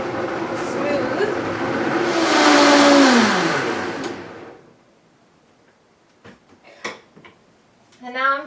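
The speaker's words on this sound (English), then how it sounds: "I'm going to blend that up together first and get it nice and" A blender whirs up and runs for about four seconds, blending bell pepper sauce for kale chips, with a rising and falling motor whine, then stops, followed by quiet clinks and a person talking.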